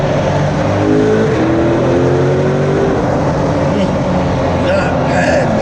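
Chevrolet Corvette C8 Stingray accelerating hard: a loud, close engine roar with rising pitch as it pulls through the revs, heard continuously with a voice over it.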